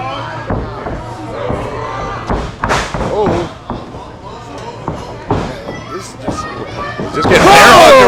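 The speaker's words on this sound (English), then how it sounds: "slammed. Belly to belly suplex." A belly-to-belly suplex slams a wrestler onto the mat at an indie pro wrestling event, giving loud thuds amid crowd noise and cheering, with a commentator talking throughout.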